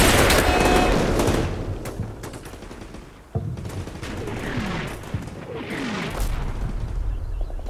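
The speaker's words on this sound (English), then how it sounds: "Oh, that's a grenade." A grenade blast and bursts of gunfire ring out in the war game Combat Mission: Black Sea, a dense loud barrage at first, then a sharp boom followed by scattered shots and rumbling farther off.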